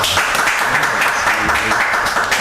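An audience at a Lombok ethno fusion music event bursts into steady, loud applause that holds unbroken for the whole moment.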